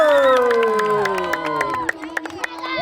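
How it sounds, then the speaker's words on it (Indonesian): Crowd clapping and cheering at a school athletics sports day prize-giving, with overlapping shouts and a few sharp claps over a steady roar. "Tepuklah, soraklah."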